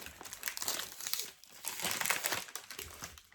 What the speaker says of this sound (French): désolée pour le bruit du papier